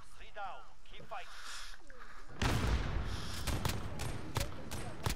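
Video game gunfire in a 2v2 tournament match: a person talks over game sounds at first, then a loud rapid volley of shots breaks in, followed by several sharp separate cracks.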